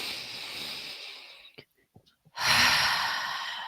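A long, loud deep breath through the mouth, a broad airy rush followed by a short pause with small catches, then a second strong airy exhale or inhale swelling close to the microphone and slowly fading.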